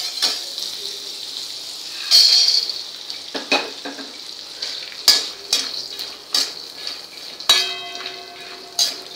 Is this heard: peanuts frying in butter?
yes